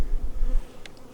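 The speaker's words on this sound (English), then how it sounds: "Oh, they're buzzing. They're a buzzing." Honeybees buzz from an opened hive during a weak-hive inspection in a farm yard, a steady close low drone with a brief higher rattle near the end and no talk.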